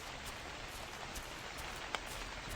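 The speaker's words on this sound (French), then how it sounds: "il pleut et c'est plutôt pénible" Rain falls steadily in the video game Kingdoms, a soft, continuous hiss of drops hitting surfaces with no voices.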